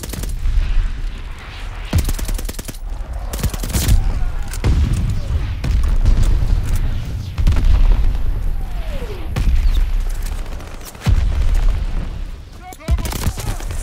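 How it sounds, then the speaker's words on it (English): Deep booms and scattered gunfire in Call of Duty Vanguard multiplayer, including mortar blasts, loud repeated impacts and shots spread across the stretch, mixed with a voice talking throughout. "I put the mortar in the wrong place"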